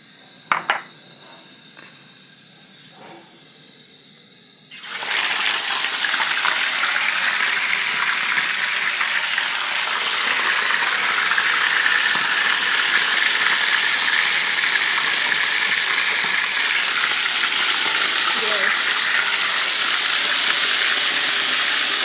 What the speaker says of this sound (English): our oil is now ready, so we proceed to put on our pork